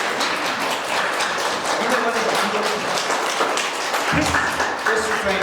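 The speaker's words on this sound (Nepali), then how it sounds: "हामी ठुलो ताली बजाएर ख्रीष्ट येशूलाई महिमा दिन सक्छौँ।" Congregation in a Nepali church service clapping loudly and steadily in praise of Christ, a thick sustained roar of hands with voices and shouts mixed through it.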